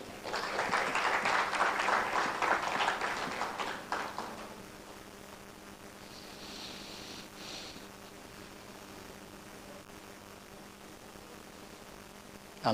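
Conference audience applauds a named attendee at a STEM education event, a dense burst of clapping lasting about four seconds before fading into quiet room tone.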